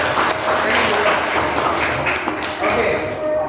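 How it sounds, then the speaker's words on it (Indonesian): An audience in an Indonesian classroom-style talk on diversity and tolerance applauds steadily for a few seconds, a dense, even patter with a faint voice underneath. "tepuk tangan ya."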